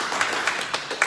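An audience claps at a team presentation, a short burst of brisk hand claps in a roughly even rhythm, fairly close and clear, with no talking over them.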